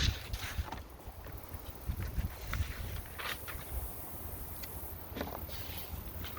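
Gusty outdoor wind buffets the area where fall seedlings are being hardened off, a steady broadband rush with low rumbling microphone buffeting and no speech.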